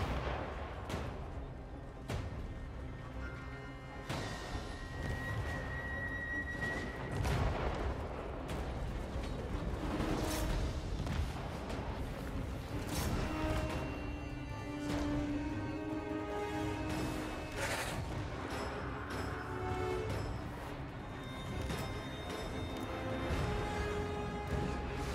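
A defensive tower in a strategy video game keeps firing at a siege tower, making a steady battle din of booming shots and crashes under continuous low rumble with some tonal game sound, no voices.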